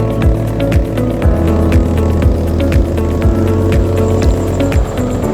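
A Skylab motorcycle engine labours as it climbs a steep mountain road, a steady loud drone with low rhythmic pulses and slight surges, close and continuous with no talk.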